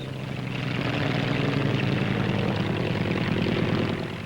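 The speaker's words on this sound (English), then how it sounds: "Here's the Bristol 173 or rotocoach with twin engines." Bristol 173 twin-engine rotocoach helicopter flying at the Farnborough airshow, a loud, steady drone of rotors and engines held at constant strength, fading slightly at the very end.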